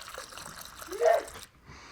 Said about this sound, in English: we're going to start by just filling the bag with a fair amount of warm water